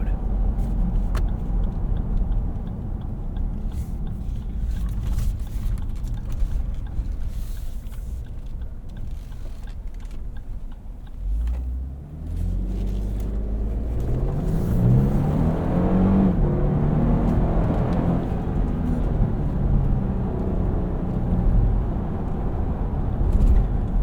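A 2024 Lexus GX 550 Luxury Plus on 22-inch wheels cruises in normal mode through desert scenery, with a steady cabin drone and road rumble that swells into a rising engine note partway through.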